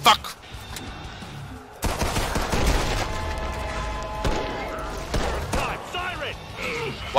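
Loud shotgun-style blasts and scattered gunfire in Killing Floor 2 combat, a few sharp reports spaced across several seconds with game effects and creature sounds between them.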